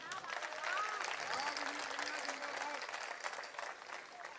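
Audience applause at an outdoor Hindi poetry recital, a faint, distant patter of many hands clapping that swells and then tapers off, with crowd murmur and a voice beneath it.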